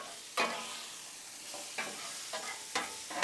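Peppers and onions sizzling on a Blackstone griddle, a steady close hiss punctuated by four or five sharp scraping strokes of a spatula turning the vegetables.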